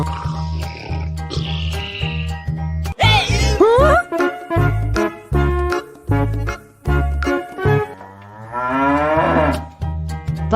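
A cow moos several times in long, drawn-out, loud calls over a bouncy, rhythmic musical backing, with a rising and falling animal roar near the end.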